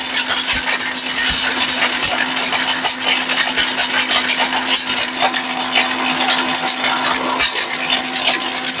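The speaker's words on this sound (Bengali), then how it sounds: "এটা তুফান ব্লেন্ডারে ভাই, কি করবে?" A 2.5 horsepower blender with a steel bush runs flat out, giving a loud, steady high-speed whir with a constant hum underneath and no pauses.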